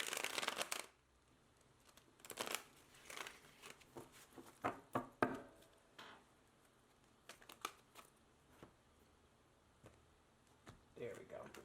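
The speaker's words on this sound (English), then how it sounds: "One more shuffle." Tarot cards are shuffled close up in quick, crisp bursts of riffling and slapping, separated by brief quiet gaps, fairly soft overall.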